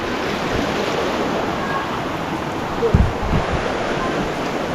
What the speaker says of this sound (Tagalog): dito kami sa ilog.